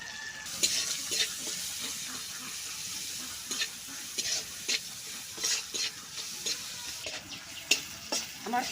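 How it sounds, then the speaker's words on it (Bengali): Chopped garlic and onion frying in a pan in a village kitchen, with a steady sizzle and crackle throughout, broken by repeated scraping stirs, all close and moderately loud with no talking. "কয় টুকরা রসুন ভাজি করব আমি রসুনের ভিতরে আমি একটা পেঁয়াজ কুচি দিয়ে দিচ্ছি"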